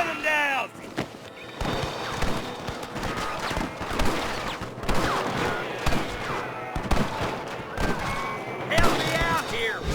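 Gunfire crackles through a shootout in Red Dead Redemption, sharp scattered shots and bursts over a busy mix of shouting voices and clatter, with a horse's whinny near the start and end.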